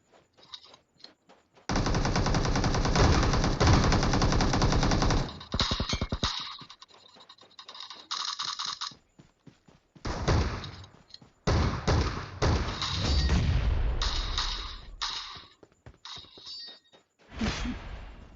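Rapid bursts of automatic gunfire and heavy grenade booms in PUBG Mobile, with repeated thumps and brief pauses between volleys.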